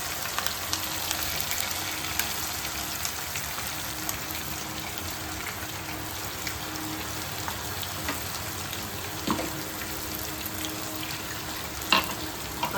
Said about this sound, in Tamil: மசாலா போட்டு நல்லா வதக்கிக்கோங்க.